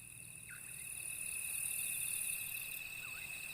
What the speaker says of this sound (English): Here, among the underbrush, insects dominate.